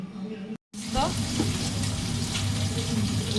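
Pieces of catla fish fry in hot oil with a loud, continuous close sizzle that drops out for a moment early on, with a faint voice in the background.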